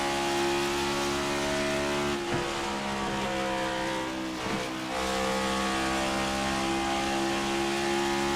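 A NASCAR Cup Series race car roars around the Indianapolis Motor Speedway, its engine a steady, loud, sustained drone with brief dips and swells as it works through a lap, with no talk over it.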